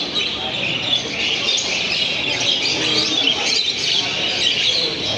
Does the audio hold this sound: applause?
no